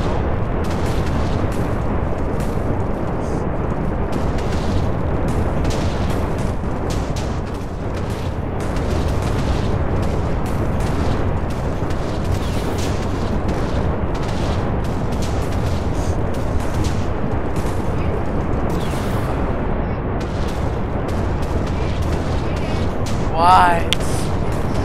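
Explosions in Minecraft rumble as a dense, continuous roar of booms and crackle under steady talking, ending in a brief rising squeal.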